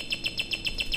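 A bird chirping in a retro computer game, a rapid, regular series of about seven short, bright electronic tweets in quick succession, loud and close with no talking.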